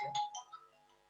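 A phone rings with a brief electronic ringtone melody, faint and short, under a quiet room.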